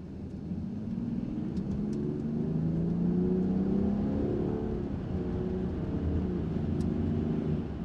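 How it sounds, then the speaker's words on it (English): A Land Rover Defender 90 Trophy's engine drones steadily, its low rumble rising in pitch as it accelerates to 60 mph, with road and wind noise throughout. "Let's get up to 60 miles per hour, slam on the brakes and see what happens."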